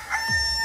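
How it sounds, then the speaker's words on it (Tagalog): A rooster crows once on a TV game show stage, a short, loud cock-a-doodle-doo that rises and falls over roughly half a second. "Tumilaok na si Marcos."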